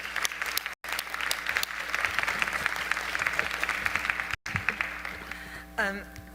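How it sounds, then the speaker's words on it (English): Audience applause for panel discussants at a conference session, a continuous patter of clapping with short dropouts, and a voice speaking briefly near the end as it dies down. "giving a round of applause to our discussants."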